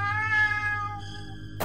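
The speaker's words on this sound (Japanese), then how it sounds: "わぁ、猫ちゃんじゃん、かわいい。" A single drawn-out cat meow from the Ao Oni X video game, clear and fairly loud, its bright tone sliding slightly as it fades, followed by a short click at the end.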